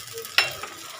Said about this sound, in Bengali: এবার আমি দিয়ে দেবো এখানে কুচানো টমেটোটা